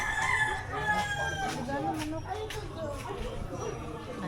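Rooster crowing with chickens clucking on a hillside farm outside Gingoog City, Misamis Oriental; several drawn-out crows rise through steady ambient noise while people talk nearby.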